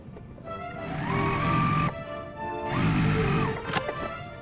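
A sewing machine stitches quilt fabric strips with right sides together, running in two steady bursts with a short pause between, close and fairly loud.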